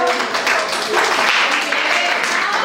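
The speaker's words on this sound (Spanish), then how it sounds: "Un aplauso para Yami." A group at a teacher training session applauds a third-place podium finish with a dense, steady wash of clapping, voices mixed into the noise.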